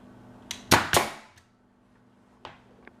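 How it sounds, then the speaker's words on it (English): A Bostitch 16 gauge finish nailer fires nails into reclaimed wood: two sharp, close pneumatic snaps in quick succession, then a quieter lone pop and a faint tap after a pause in an otherwise quiet room. "let me show you how it fires into the wood"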